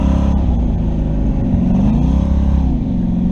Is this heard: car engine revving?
yes